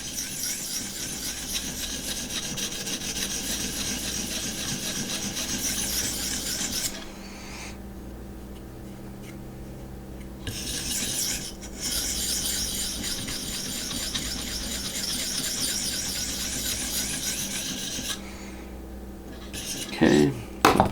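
A custom knife blade being sharpened on a Vipersharp guided system, a steady raspy scraping of stone strokes across the steel, near and continuous with brief pauses between passes and a clatter at the end.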